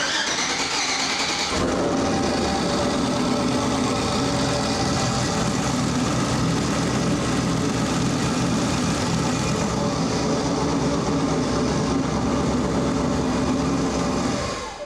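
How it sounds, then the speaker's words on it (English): An LS-swapped Audi V8 with a damaged piston or broken rings after high boost starts up and runs at a steady, loud, rough idle, close by, with no talking. "That's straight up blow-by."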